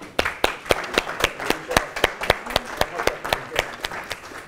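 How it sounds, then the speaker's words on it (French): A small council-chamber audience applauds five newly elected deputy mayors at a town council session, sparse, uneven hand claps at a steady rhythm, close and moderately loud, with no voices over it. "On peut les applaudir."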